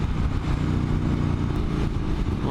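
Triumph Street Cup motorcycle engine revving steadily in a lower gear on a road in Wales, a continuous loud rumble close by with no voices.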